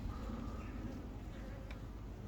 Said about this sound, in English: the bees are out.